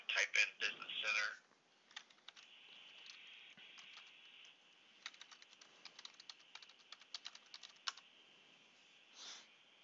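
Keys clatter on a computer keyboard in bursts of close, quick taps, with a steady tone running beneath and a short burst of louder activity at the start.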